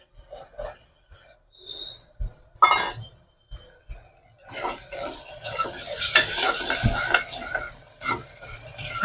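A spoon stirs fried onions and potatoes together in a pan for Szechuan fried rice, making irregular scraping clatters over a light sizzle, with a cough and some talking mixed in.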